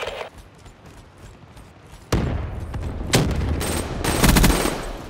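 Automatic gunfire and explosions from Call of Duty Black Ops 3 begin after a quiet stretch, then build into loud, dense bursts of shooting that grow heavier toward the end.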